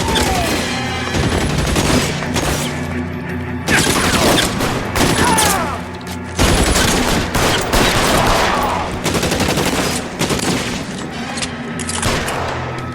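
Gunfire in the video game L.A. Noire: dense, loud bursts of rapid shots and booms almost continuously through a firefight, with brief pauses, under faint game voices.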